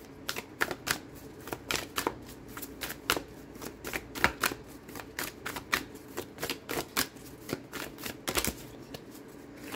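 Tarot cards are shuffled and pulled in a steady run of crisp riffling snaps and soft slaps, close and fairly quiet, with no voices.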